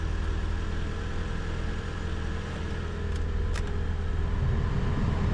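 An old BMW car engine runs by itself at a steady, rough idle, close and continuous, with faint clicks near the end and no talking.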